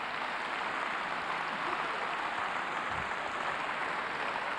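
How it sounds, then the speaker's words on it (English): A theater audience at a London Barbican Centre hypnosis show applauds loudly and steadily, a dense, sustained wash of clapping throughout. "all of this applause is for you guys"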